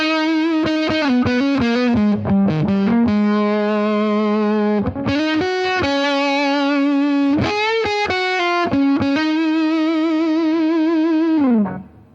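An electric guitar through a Zander Circuitry American Geek fuzz pedal plays loud sustained notes and quick runs, its tone buzzy and synthetic-sounding, ringing out alone before cutting off.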